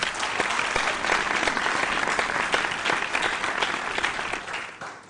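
A quiz show studio audience gives a loud, sustained round of applause at a school quiz contest, dense clapping that holds steady for the whole stretch and eases slightly at the very end.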